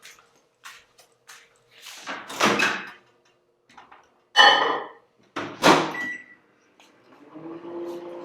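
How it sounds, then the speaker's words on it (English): A microwave hums steadily after a few clicks and thuds of a door and buttons, with a low drone running near the end. "Put in the microwave for about 2 minutes."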